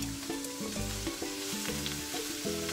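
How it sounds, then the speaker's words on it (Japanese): Steady sizzling of food stir-frying in an overfilled small frying pan, with rhythmic scraping and stirring strokes repeating every half second or so, no voices. "炒めていきます。"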